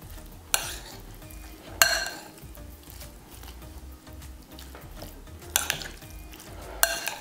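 Crab salad being mixed with its dressing in a bowl, a soft continuous wet stirring close by, with a few sharp utensil knocks against the bowl.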